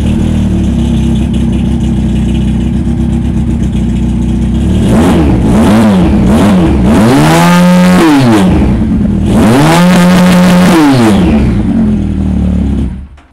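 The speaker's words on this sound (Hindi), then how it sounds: "आपको इसको स्टार्ट करके साउंड सुनवाते हैं।" A 2023 naked street motorcycle's engine runs loud and close, idling steadily before two strong rising rev bursts with a brief drop between them, then settling and cutting off.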